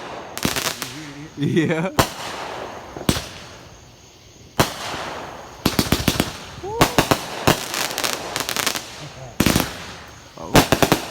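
Fireworks go off at night in rapid bursts of sharp cracks, some in quick groups of three. The bangs come both close and farther off, with crackling tails and occasional whistles between them, and people speak briefly in between.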